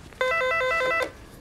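A telephone gives a single electronic ring lasting under a second, clear and close, with no voices.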